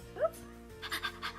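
A child imitating a dog panting while pretending to be the family dog in a game of house: quick breathy huffs and a short yelp-like squeak, close and fairly quiet, with faint voices behind.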